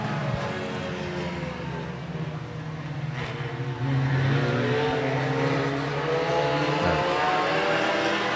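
Hornet race cars launching into an 8-lap heat race, engines roaring together in a loud sustained drone that surges in volume midway as the pack accelerates past.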